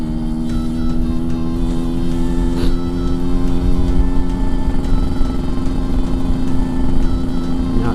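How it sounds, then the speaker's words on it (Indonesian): A loud Yamaha RX King two-stroke motorcycle engine running steadily nearby, a constant rough buzzing drone with slight revving swells throughout. "Saya dengar suara mesinnya ribut sekali."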